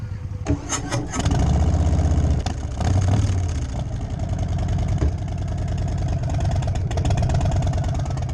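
A motorcycle cranks and fires up with a few coughing bursts, then settles into a steady, close, rumbling idle, with faint voices in the background.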